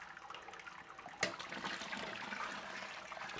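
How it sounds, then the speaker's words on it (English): Liquid trickling and draining from an 18-gallon Anvil Foundry brewing vessel during a lager brew day, a soft steady bubbling flow like a small brook, with a brief louder splash partway through. "Kind of like a little brook or a little fountain kind of bubbling away."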